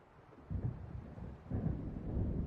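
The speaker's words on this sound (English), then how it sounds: "It seems there's a storm coming." Low rolling thunder from an approaching storm in the video game Alan Wake, a faint rumble that swells in two waves and stays soft and distant, with no voices.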